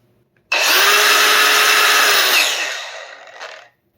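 A corded angle grinder with no variable speed switches on abruptly, whines loud and steady at full speed, then is switched off and slowly spins down over about a second before going silent.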